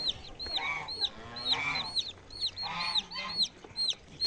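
Newly hatched chicks and young turkeys peep nearby in repeated high chirps, with clucking from poultry beneath, in busy bursts and no talk.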